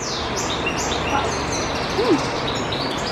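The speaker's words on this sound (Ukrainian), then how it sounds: "Ух ти, яка пташка там співає." A small bird sings repeated high chirps and warbles outdoors near a market stall, with a steady bed of background noise and a brief voice-like tone partway through.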